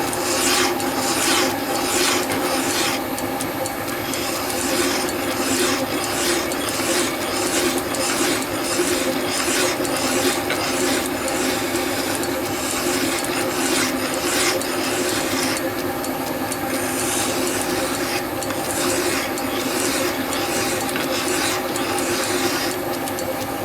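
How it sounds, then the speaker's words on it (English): Light strokes with a fine file rasp steadily and evenly back and forth, a continuous scraping texture heard up close with no talking. "Nice clean fine file. Don't bog it down, just lightly"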